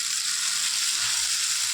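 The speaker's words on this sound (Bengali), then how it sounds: "পেঁয়াজটা ভাজা ভাজা হয়ে গেছে" Chopped onion and tomato fry in a pan for a vegetable sabji, a steady, close, even sizzle with no talking.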